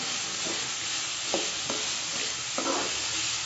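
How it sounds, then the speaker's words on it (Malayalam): Beetroot sautéing in coconut oil in a pan: a steady, close sizzle runs throughout, broken by a few short scraping stir strokes. "ഇനി അതിലേക്ക് നമുക്ക് ബീട്രൂട്ട് ഇട്ട് കൊടുക്കാം അപ്പോൾ ആ ബീട്രൂട്ട് ഇട്ട് നല്ല നല്ലപോലെ ഒന്ന് വളർത്തിയെടുക്കാനാണ്"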